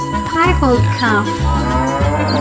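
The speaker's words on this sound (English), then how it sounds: "Piebald calf." A piebald calf moos in a few drawn-out, close, loud calls, with brief pauses between the lowing bellows and no talking.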